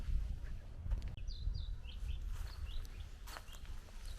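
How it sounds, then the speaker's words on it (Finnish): Scattered bird chirps and short song phrases ring out by a lakeshore in Imatra, Finland, over a steady low outdoor rumble, fairly distant, with soft rustling movement nearby. "Ja linnut laulaa."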